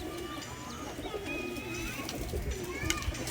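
Male pigeon held in a hand, soft low cooing and murmuring sounds close up over a steady background hum, with faint chirps of other birds nearby and no clear talking.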